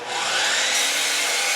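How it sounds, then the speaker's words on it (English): A compound miter saw cuts through wood in a single loud, close burst of high-pitched whirring and grinding that holds steady for its short length. "This is a compound miter saw."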